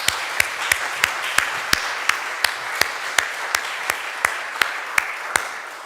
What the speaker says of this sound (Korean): 우리 수고하신 분들 모두 위해서 박수하면 참 좋겠습니다.